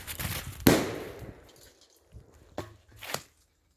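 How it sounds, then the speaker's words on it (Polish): A one-gram firecracker bursts on a worn-out cake baking tray with a single sharp, loud bang, followed by a decaying metallic rattle and a few fainter clanks and thuds afterward. "mam już wysłużoną blachę do pieczenia ciast, więc słaby zawodnik dla jednogramowej petardy"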